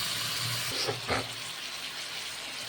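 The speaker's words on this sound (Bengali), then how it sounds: "আমি শুধু এখন একটু গরম জল দিয়ে এটাকে একটু আরেকটু ঢেকে দেবো" Hot water pours into a pot of fish curry with cauliflower and potato, a short splashing gush about a second long over a steady background hiss in a home kitchen.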